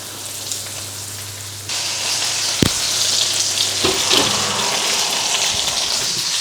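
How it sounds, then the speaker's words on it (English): Chicken fillets fry in a pan, giving a loud, steady sizzle with crackling and occasional pops and clinks. No one speaks. "I transfer it to a plate and fry the other 2 fillets"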